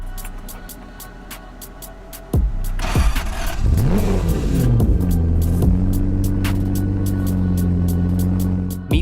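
A Jaguar XJS V12 starts and revs smoothly, its engine note rising and falling in several sweeps before holding a steady hum, heard close with rhythmic ticking in the background.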